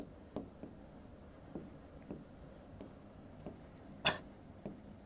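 Chalk or marker taps and scratches on a board during a physics lesson, a sparse series of soft, short strokes with one sharper stroke near the end, faint and close, without talking.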